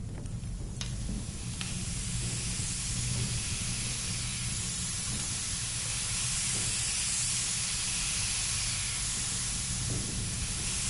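A broad, continuous hiss of escaping steam in the video game Ad Infinitum, steady and loud for the whole span, with faint low rumbling beneath and no talk.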